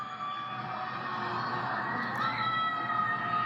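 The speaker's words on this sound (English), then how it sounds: "What you're hearing in this video are the screams of the people trapped inside." People trapped in Shanghai apartment towers scream and shout from a distance, a massed, continuous chorus of overlapping cries and yells echoing steadily without pause.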